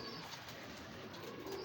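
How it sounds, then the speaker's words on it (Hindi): Soft, low cooing of pigeons rises from a noisy background, faint and continuous over a short stretch. "और इतने अच्छे कबूतर"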